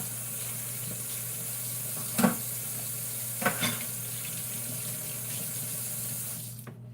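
Running water from a kitchen sink tap pours steadily as hands are rinsed, a constant close splashing with a couple of brief clunks midway before the flow cuts off at the end.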